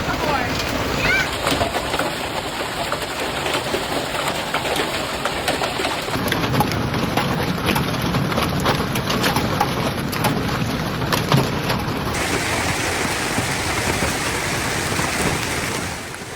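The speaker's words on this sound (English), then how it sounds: "I've never seen hail that big before." Heavy rain pours steadily during a violent thunderstorm in Alberta, with giant hail drumming among it, a dense continuous roar and a voice speaking partway through.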